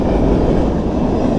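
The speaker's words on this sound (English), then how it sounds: "It's amazing how long the trains are up" A very long freight train rolls past, heard as loud, steady, broadband rumble and roar with no break across the short stretch.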